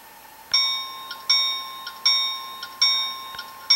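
A Soundtraxx Tsunami model train sound decoder rings its bell function, a clear metallic clang repeating at a steady rhythm about every three-quarters of a second, loud and close with nothing else over it.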